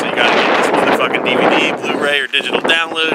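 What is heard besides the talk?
wind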